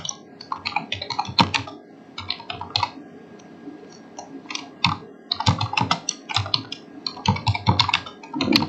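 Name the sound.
typing on a computer keyboard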